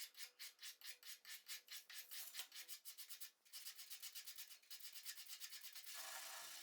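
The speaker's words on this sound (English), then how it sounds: "sanding it and filing it, draw filing it" A file rasps back and forth in steady, rhythmic strokes along a metal saw blade being shaped into a knife, a dry scraping that repeats quickly, close and fairly quiet.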